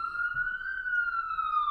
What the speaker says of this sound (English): There's a siren going off, though.